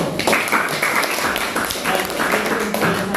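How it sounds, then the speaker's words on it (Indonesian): Students in a classroom clap for a group that has just presented, a dense, steady patter of many hands lasting the whole stretch at moderate loudness, with some voices mixed in. "Tepuk tangan untuk kelompoknya."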